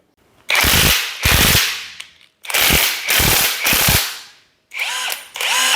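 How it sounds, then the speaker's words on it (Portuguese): Loud, close impact driver firing in short bursts of rapid, rattling hammering, several in a row separated by brief pauses. "um adaptador de parafusadeira de impacto, para você soltar aquele parafuso, apertar aquele parafuso"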